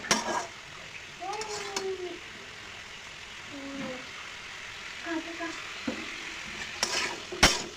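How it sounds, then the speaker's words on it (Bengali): Papaya and vegetables with turmeric and salt are stirred in a pan, giving a soft background sizzle broken by a few scraping strokes and light utensil clinks, with faint voices in the background. "নাড়াচাড়া করবো।"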